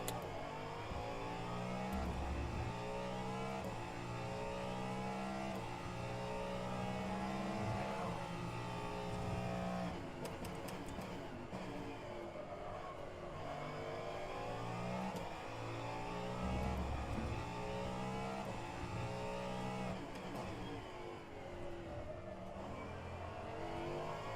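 A Ferrari race car engine in the rFactor 2 racing game, practicing at the Daytona Road Course, drones steadily and loudly throughout, its pitch rising and falling through gear changes with no talk over it.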